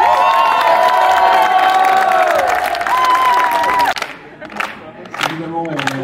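A studio audience bursts into loud cheering and whooping applause to welcome the host of a French show, then the crowd noise drops and scattered shouts and voices follow.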